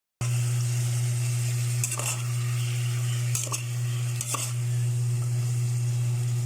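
Pork for sinigang stirred in a cooking pot, a few distinct scraping strokes of a utensil over a steady sizzle and a constant low hum, close by.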